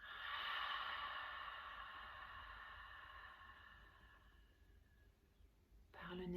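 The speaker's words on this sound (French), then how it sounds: "On va prendre 3 respirations ensemble par le nez à l'inspire. Par la bouche à l'expire." A slow, deep breath taken in through the nose and let out through the mouth during a guided menopause meditation, heard close and quiet, the airflow fading steadily over several seconds.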